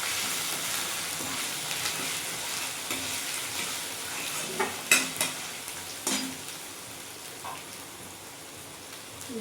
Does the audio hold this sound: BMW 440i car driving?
no